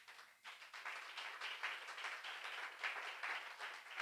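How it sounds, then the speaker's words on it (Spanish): A church congregation gives a strong round of applause during a Spanish-language sermon, dense sustained clapping throughout, fairly distant and even, with no talking over it. "¿Cuántos le dan un fuerte aplauso al Señor?"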